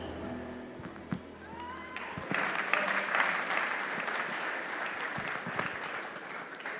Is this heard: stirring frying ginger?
no